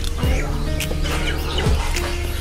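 Six hens and a rooster cluck and chirp nearby, with a couple of sharp calls standing out over a steady background of farmyard noise.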